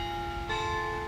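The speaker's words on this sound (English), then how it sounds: "Don't you love those bells out here at Midwestern?" Outdoor bells ring at Midwestern with sustained, overlapping tones, a new bell strike entering partway through and lingering over a quiet background.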